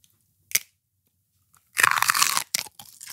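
A raw celery stalk is bitten and chewed: one short crisp snap, then about a second of loud, dense crunching followed by a few smaller crunches, close up with no talk.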